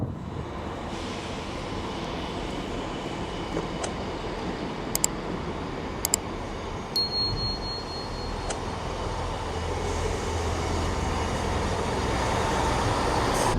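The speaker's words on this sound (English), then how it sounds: "now our train has just crossed into the section of Northumberland Park" A train runs steadily near Northumberland Park station, a broad continuous rumble that swells slightly toward the end, with a few brief sharp clicks and a short high electronic beep midway. No one speaks.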